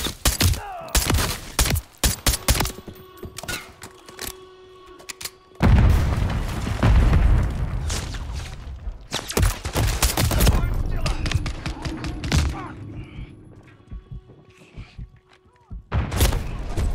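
Gunfire and explosions in the Modern Warfare 3 (2023) campaign: rapid bursts of shots and sharp cracks, then a heavy booming blast that rumbles on, followed by more scattered gunfire and impacts, loud throughout.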